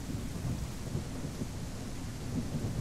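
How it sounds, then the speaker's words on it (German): Heavy rain pours steadily with deep rolling thunder in the survival game The Isle Evrima, a dense continuous storm roar filling the short stretch with no voices. "Ist auch sehr starker Regen."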